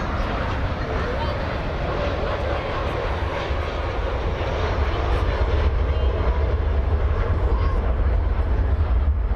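An Atlas Air Boeing 747 departs Dallas-Fort Worth airport with a broad, continuous engine rumble that swells louder toward the end, heard alone without talk.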